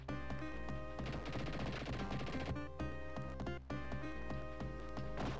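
Rapid Tommy gun fire in the Mega Drive game Dick Tracy, a loud continuous synthesized machine-gun rattle over looping game music, with two short breaks in the burst.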